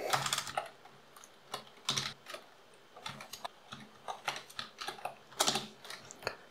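Irregular, crisp taps of someone typing code on a computer keyboard during a JavaScript lesson, close and clear, in short bursts with small pauses and no voices.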